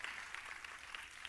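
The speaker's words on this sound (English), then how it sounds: "Yes, you can clap." Audience clapping fills a room at a talk, a steady soft wash of many hands with no pauses, fairly quiet and heard from a little way off.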